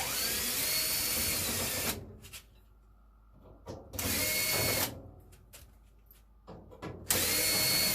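A power drill spins screws out of the front frame of a Samsung dryer in three loud, close bursts, separated by quieter pauses with faint clicks and handling.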